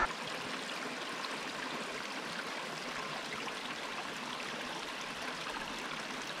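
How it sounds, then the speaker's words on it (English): Steady rush of a waterfall cascading over rocks in a mountain notch, a constant wash of water with no other sounds. "let's go check out this waterfall."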